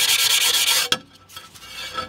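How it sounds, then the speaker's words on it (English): A rub stone grinds chips off the cut edge of a shower wall tile, giving a loud, close, continuous rasping scrape that stops abruptly, followed by quieter handling noise. "So you can see the chips on here, and this is the rub stone."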